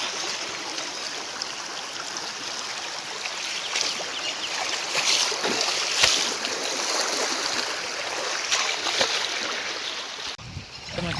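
Floodwater from heavy rain rushes steadily across a farm field in a continuous broad hiss, close and fairly loud, with occasional small knocks and no talking.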